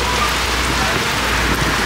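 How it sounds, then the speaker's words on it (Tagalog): Heavy rain pours down outside a 7-Eleven, a steady, dense hiss of water drumming on surfaces that holds loud and unbroken throughout. "bigla lang bumuhos yung ulan."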